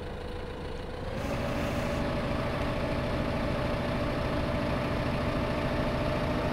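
Tractor engine idling in the Farming Simulator video game, a steady low diesel rumble that starts up after a brief quieter moment and then holds constant and close.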